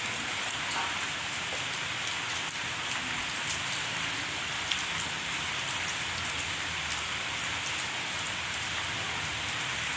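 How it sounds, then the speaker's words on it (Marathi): Heavy rain pours steadily over a home kitchen area, a dense continuous hiss with scattered louder drops, no talk. "पाऊस पडतोय जाम आमच्याकडे."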